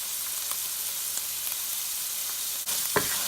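Chopped carrot, beans, green chilies and urad dal fry in oil with a steady, close sizzling hiss. A few soft stirring taps come near the end, with no talking.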